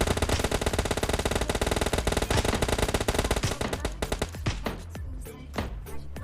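Rapid automatic gunfire from the PUBG Lite battle royale game rattles in dense, loud bursts for about four seconds, then breaks into sparser, separated shots that trail off.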